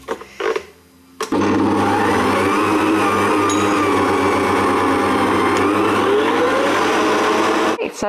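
A stand mixer whipping vegan marshmallow mixture runs at high speed with a loud, steady motor whine and a low hum. A voice comes briefly before the mixer starts up.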